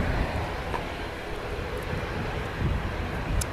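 An ATR 72 turboprop in Loganair colours is heard at Manchester Airport as a faint, distant engine rumble with a broad, steady roar.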